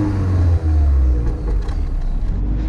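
A Renault Clio 197 engine roars deeply while driving, a loud, steady low rumble heard from inside the car, rising slightly as it pulls.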